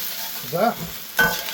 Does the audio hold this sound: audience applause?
no